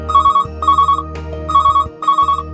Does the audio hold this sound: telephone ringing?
yes